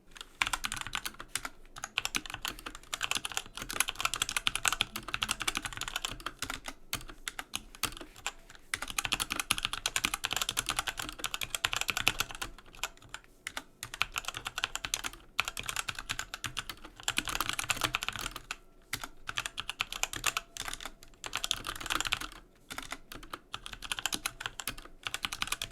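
Fast, steady typing on a MageGee SKY-68 hot-swappable budget mechanical keyboard fitted with Outemu purple tactile switches, close and dense clacking keystrokes with brief pauses between bursts and no voices.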